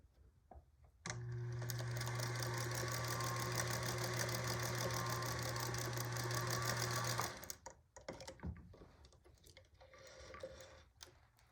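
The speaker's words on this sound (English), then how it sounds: "now we're just gonna sew down to this corner" A sewing machine stitches bias binding, running at a steady, fast mechanical hum and rattle for about six seconds before stopping, followed by quiet handling noises.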